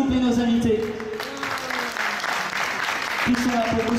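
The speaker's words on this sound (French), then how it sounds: "On les applaudit, s'il vous plaît, nos invités" Applause rises for a musical guest and his guitarist at a showcase in a Leclerc cultural space in Rochefort, a steady patter of clapping under a host's voice that talks over it.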